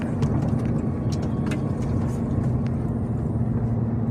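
A car rolls steadily through a yellow automatic-payment toll lane on an Italian motorway without stopping, a constant close engine and road rumble with faint clicks over it and no speech.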